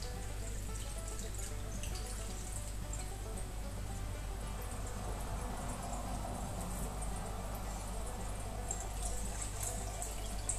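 Homemade ginger beer drains through a strainer in a steady, close trickle that runs without a break and sounds like a continuous pour of liquid.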